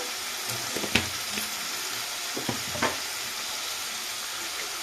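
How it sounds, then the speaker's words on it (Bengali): A small portion of curry sizzles in a pan with ginger-garlic paste, coriander powder, salt and meat masala, a steady frying hiss punctuated by several sharp clanks and scrapes of stirring. "এগুলো দিয়ে ভালো করে আমি কষিয়ে নেব তরকারিটা ভালো করে কষিয়ে নেব"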